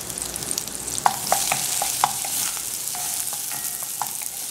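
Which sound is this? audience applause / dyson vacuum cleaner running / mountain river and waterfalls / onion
onion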